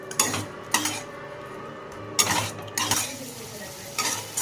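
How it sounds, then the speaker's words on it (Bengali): Spice mixture sautéing in a pan for a yogurt okra dish, a low continuous sizzle broken by several sharp metal spoon scrapes and clinks against the pan at uneven intervals, close by, with no talking. "এবার ভালো করে মশলাটাকে কষিয়ে নেব"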